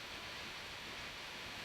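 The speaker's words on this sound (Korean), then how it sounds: "유리문이 얇아서 비소리가 그대로 들어와요." Steady rain heard through a thin glass door, a dense, even wash of noise with no breaks, close and constant.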